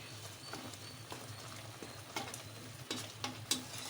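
Chicken curry masala being stirred and fried in a pan: a low continuous sizzle with soft scraping stirs and a few sharper clinks toward the end, close but quiet, with no talking.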